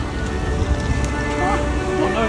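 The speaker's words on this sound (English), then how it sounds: "The rain is getting serious." Heavy rain pours down in a dense, continuous hiss, close and loud, with scattered heavier drops spattering throughout.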